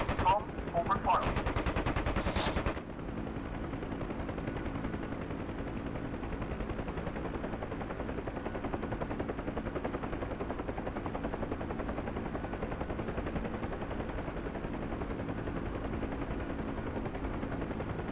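Rapid machine-gun fire from a helicopter in a flight combat video game rattles loudly and continuously over the steady drone of the rotor, with a brief sharper burst at the start.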